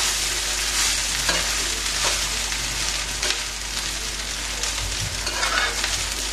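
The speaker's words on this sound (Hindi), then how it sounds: "अभी हमारा 5 मिनट कंप्लीट हो चुका है, चावल भी अच्छे से भून चुका है" Leftover rice frying in a pan with tomato: continuous close sizzling with a low steady hum underneath and intermittent scraping stirs of the spatula, no voices.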